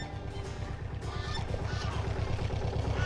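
Geese and other fowl in a salt-marsh bird sanctuary in Charente-Maritime honk repeatedly, a close, rhythmic series of calls over a busy outdoor background.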